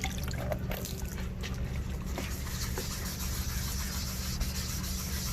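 An old 2004 Nissan Frontier tail light being wet-sanded with 800-grit paper and water, a continuous close, soft, gritty rubbing with faint watery swishes and no pauses.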